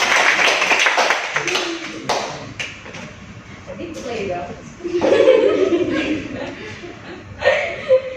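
A small counselling group claps hands together in a room, a few scattered rounds of claps mixed with chuckles and laughter, with voices talking over it.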